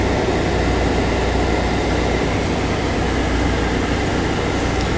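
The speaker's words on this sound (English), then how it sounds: "Right now I have the heat and the AC fighting each other." Heater blower and rear air conditioning fan running together inside a Volkswagen Eurovan give a constant broad whooshing roar of airflow, steady and close, with no voices.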